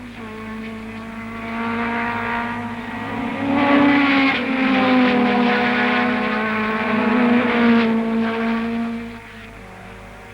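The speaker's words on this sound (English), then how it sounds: "Jack Brabham on the Cooper comes through clearways to take the checkered flag ahead of Clark and Hill" A 1961 Cooper race car passes during a club race on its final lap at the Clearways corner, its engine a loud, sustained tonal drone whose pitch rises and wavers before falling away, heard on an old film soundtrack with no talk.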